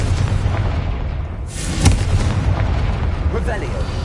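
A Confringo blasting spell from the Hogwarts Legacy video game goes off in one sharp burst near the middle, a loud boom with a crackling tail, set against steady game ambience and rumble.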